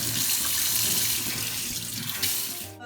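Tap water runs steadily into a sink while face cleanser is rinsed off, a continuous close splashing flow that cuts off abruptly at the end.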